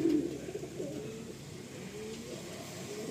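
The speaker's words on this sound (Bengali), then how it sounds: "এইটা হচ্ছে কালাঙ্কা চোখের পায়রা" A kalanka-eyed pigeon in a loft at Garia gives a soft, steady run of low cooing that carries on without a break at a moderate level.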